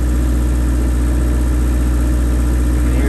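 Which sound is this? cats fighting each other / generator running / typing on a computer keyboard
generator running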